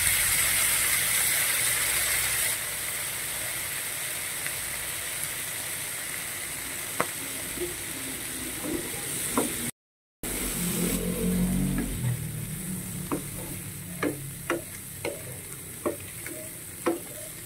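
Balut being stir-fried in a pan with oyster sauce, a steady close sizzle with scraping stirs and sharp utensil clicks against the pan, growing busier toward the end.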